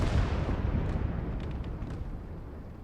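A shot at a T-26 tank in the Gates of Hell: Ostfront war game, heard as a muffled, rumbling blast that slowly fades, followed by a few faint distant pops, fairly quiet overall.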